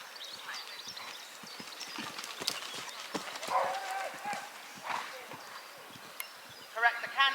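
A horse canters during a show-jumping lesson. Hoofbeats sound in a loose rhythm with some scuffing and louder thuds, while a trainer's voice carries over an outdoor arena background.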